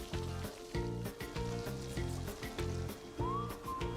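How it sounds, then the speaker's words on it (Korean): Oil sizzles and crackles as food deep-fries, paired with a steady, rhythmic, music-like beat that pulses throughout. "지글지글 군침 도는 박자가 멈추지 않습니다."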